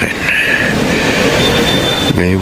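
A train rumbles past on a railway, a loud, continuous close roar with a faint high whine, ending in a brief clanking burst.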